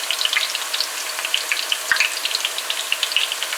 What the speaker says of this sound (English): the batch that you're going to fry